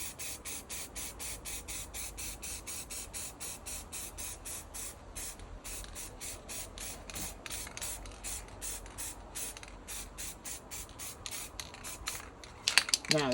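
Rapid short bursts of an aerosol spray can hiss steadily while a model wagon is painted black, the spray pulsing in an even rhythm close by, with a brief rattle near the end.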